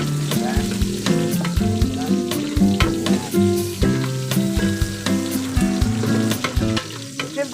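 Onions sizzle and fry as they go into a pan while cooking pork adobo, with steady crackling alongside loud, rhythmic tonal sounds that resemble music.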